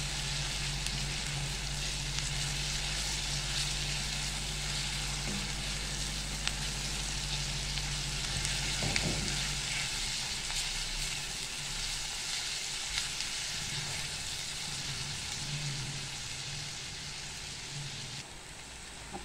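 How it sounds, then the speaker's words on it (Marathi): Ginger garlic paste sautés in a pan for potato bhaji, giving a continuous soft, even sizzle heard alone at low level, with a faint low hum underneath and a couple of light stirring touches. "आला लसणाचा आपल्याला कच्चा वास जाईपर्यंत आपल्याला हे परतून घ्यायचे"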